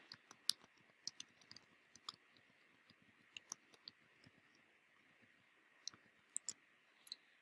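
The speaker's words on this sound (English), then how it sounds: "I'm going to type it out and let you read it as I do it." Typing on a computer keyboard, quiet close key clicks in uneven bursts and short runs with brief pauses, no talking.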